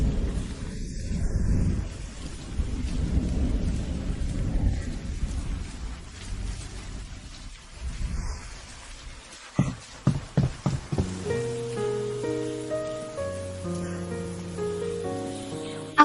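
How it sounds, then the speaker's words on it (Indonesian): Heavy rain hisses as a dense, steady wash for several seconds, then thins out as a plucked melody takes over. "Hujan deras seperti ini"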